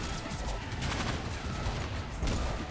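Rimworld base turrets open up in a ragged burst of rapid gunfire, sharp cracks stacking into a dense, loud volley that pulses unevenly and swells near the end, with no talking.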